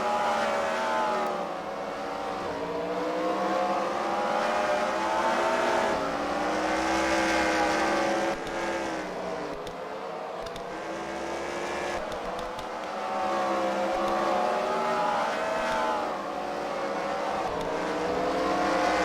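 Race cars roar through a second-round heat at the Freedom Factory during CWRL Fight Night, loud engines revving and swelling as they pass close by in repeated waves, with no voices.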